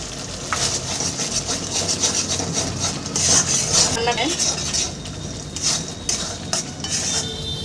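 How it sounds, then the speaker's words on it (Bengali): Spice paste with a spoonful of sweet yogurt is stir-fried in a pan for a dish of pabda fish, a close, continuous scraping and rubbing of a spatula against the pan over a soft sizzle. "মিষ্টি দইটা দিয়ে আমি অল্প সামান্য কষাবো"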